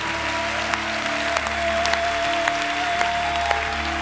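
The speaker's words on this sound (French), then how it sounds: "Est-ce qu'on pourrait donner une main d'acclamation à celui sans qui rien n'est possible" A congregation gives a round of applause, with dense clapping that stays steady and loud throughout, over a low sustained hum, with no speech.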